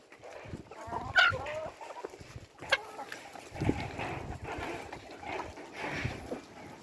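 Backyard hens feeding on garlic and onion, giving low clucks and murmurs amid pecking and shuffling, close and moderately loud, with a person talking briefly over them.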